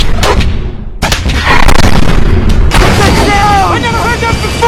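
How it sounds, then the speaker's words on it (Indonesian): Deep booming blasts and rumbling thunder from a War of the Worlds film scene, loud and sustained with sharp bursts, a dense rolling roar, and high whining tones in the later part. "Semakin lama, suara gemuruh pun semakin terdengar keras."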